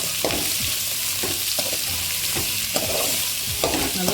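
Radish and onion sautéing in a pan for Tamil-style radish chutney, a steady close sizzle with repeated scraping stirs of a spoon against the pan.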